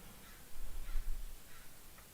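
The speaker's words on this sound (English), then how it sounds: "There's a bird out there making a lot of noises." A crow caws a few times in the distance, faint against a quiet background.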